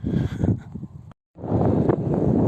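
Strong headwind on an uphill climb in Morocco buffets the microphone in a roaring, rumbling rush, cutting out briefly before surging back just as loud.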